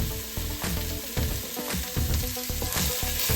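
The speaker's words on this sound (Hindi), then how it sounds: "तो जो प्याज है वो बढ़िया से यहाँ पे पक रहा है।" Onion frying in olive oil in a pan on an induction hob, a steady close sizzle with crackling pops and a few stirring scrapes, no voices.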